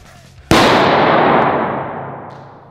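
A Korsar firecracker blasts on a concrete block with a single loud, sharp bang that rings out into a long, slowly fading rumbling decay, with faint low sounds before it.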